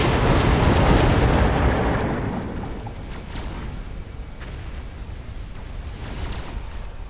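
Napalm burning enemy units in the strategy video game Mechabellum: a loud, dense roaring blast that swells for about two seconds, then settles into a steady crackling, rumbling burn with scattered small pops, and no talking.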